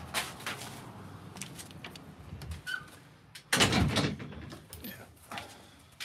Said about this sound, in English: Should probably close the door so the dogs don't get out.